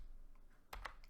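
A short burst of computer keyboard typing, several quick close keystrokes clicking after a moment of quiet room tone, no voice.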